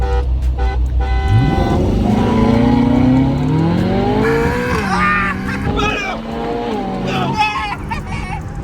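A twin-turbo Mercedes engine roars while racing a Ferrari, its pitch climbing steadily through the revs with stepped shifts and a brief horn-like tone, loud and close throughout.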